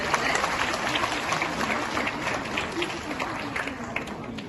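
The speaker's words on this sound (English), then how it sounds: "Could we have a round of applause for her?" An audience at a village school awards ceremony claps in sustained applause, a dense wash of many hands clapping at once.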